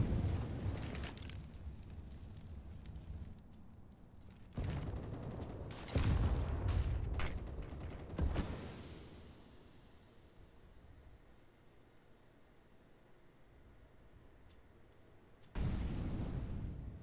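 Grenade blasts from a Counter-Strike professional esports match, a series of several loud, broadband booms spaced across the stretch with quieter game noise between them, with no talk over them.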